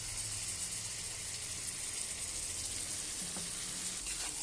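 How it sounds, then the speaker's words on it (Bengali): Spice paste of ground spices, turmeric and salt with a splash of water frying in a pan, a steady close sizzle and hiss with faint stirring scrapes near the end. "তো এবার আমি এখানে ভালোভাবে কষাবো মশলাটা।"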